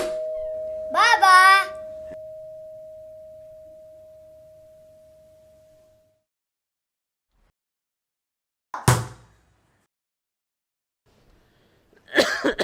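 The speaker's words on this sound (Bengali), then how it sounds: "তুমি কাশি দিচ্ছ কেন?" A short cough burst from a person who is feverish, standing out after a steady tone fades, followed by a second sharp, loud cough-like burst and a brief, quieter one near the end.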